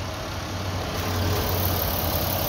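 A 2005 Pontiac Grand Am engine idles smoothly and steadily up close with an even, continuous hum and no speech.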